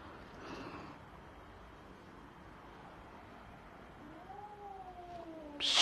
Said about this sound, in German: Da drin ist eine fremde Katze.